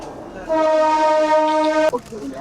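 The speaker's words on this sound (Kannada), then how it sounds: "ಒಂದೇ ಬರೋ ಟ್ರೈನ್ ಹತ್ತಿದ್ದೀವಿ." A Vande Bharat train at Varanasi Junction sounds its horn: one loud, steady harmonic blast of about a second and a half, which cuts off abruptly before quieter station noise.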